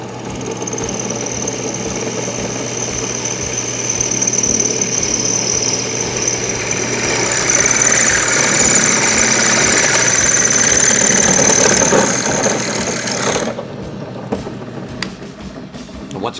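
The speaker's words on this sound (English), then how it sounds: "We've drilled our 5/16 hole in here." A drill bores a 5/16 hole into the metal wheel plate of an L'Acoustics SB28 speaker, a loud steady whining drone with a high tone that rises in pitch and stops abruptly, followed by faint clatter.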